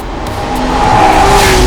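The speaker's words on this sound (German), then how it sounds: "das ist der geilste Motorsound, der in einem Serienfahrzeug überhaupt mal realisiert wurde" A Porsche Carrera GT engine roars loudly and close, its rising tone building steadily over a short burst, with no talking.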